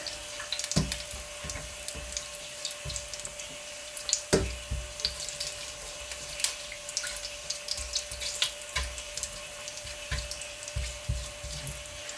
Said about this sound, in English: throw in the spices, the cumin seeds and the bay leaf and the cinnamon stick, and just fry them for about 30 seconds